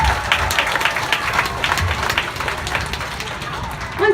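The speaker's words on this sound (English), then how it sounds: "Let's give a round of applause to all 4 of our Dolphin stars." Audience applause in the stands at a dolphin show, a moderately loud patter of many hands clapping with crowd murmur, fairly steady across the moment.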